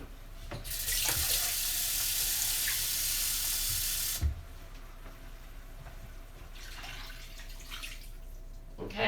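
A kitchen tap runs strongly for about four seconds to fill a can with water for a tomato sauce, then stops, followed by faint clinks and a second brief splash.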